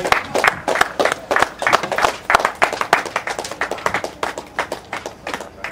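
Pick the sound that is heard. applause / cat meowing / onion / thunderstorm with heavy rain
applause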